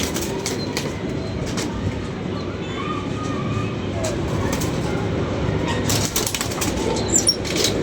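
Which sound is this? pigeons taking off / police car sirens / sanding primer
pigeons taking off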